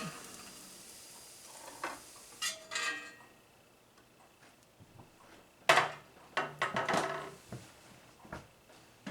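Cooked sunchokes lifted out of a hot skillet, with faint sizzling under scattered clinks and scrapes of a utensil against the pan, loudest in two bursts of clattering.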